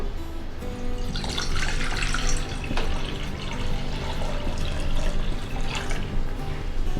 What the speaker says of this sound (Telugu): ఇప్పుడు మనం 2 కప్స్ వాటర్ పోసుకుందాము.